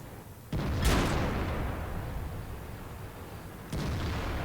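A tank gun fires in World of Tanks during a battle, a sharp boom with a long rumbling decay, followed a few seconds later by a second, quieter shot.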